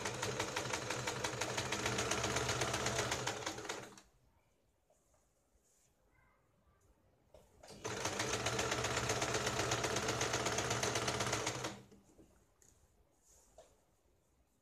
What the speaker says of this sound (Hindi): यहाँ पे हमें इसको सिलाई लगानी है